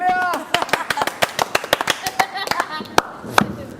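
A small group claps in quick, uneven bursts, with a voice briefly audible at the start.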